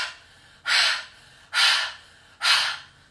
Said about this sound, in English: so our breathing shooting that air from the base of your lungs out